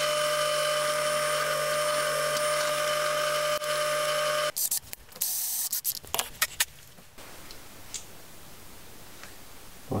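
A drill whines steadily as it bores a hole through perspex for a woodworking shooting board, then stops abruptly and gives way to clattering handling noises and quieter background.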